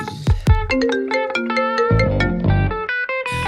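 A mobile phone rings with a bright, melodic electronic ringtone that plays a quick sequence of tonal notes loudly and continuously for several seconds, with no voices over it.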